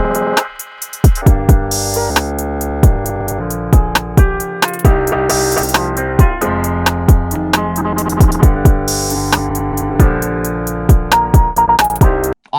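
A drum loop is reshaped in real time by sweeping effect knobs, so dense electronic hits come under pitch sweeps and filter swells, loud and steady with brief dropouts.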